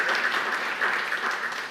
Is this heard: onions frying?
no